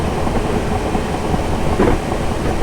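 A passenger train on the Guildford to London Waterloo run in Train Simulator 2018, slow to accelerate with extra carriages behind, rumbles steadily with a loud, continuous rolling drone and a faint clack partway through.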